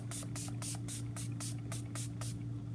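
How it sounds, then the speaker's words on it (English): Rapid pumps of an Urban Decay makeup setting spray bottle, about nine short hissing bursts in steady rhythm, close by over a low constant hum. "take some Urban Decay setting spray"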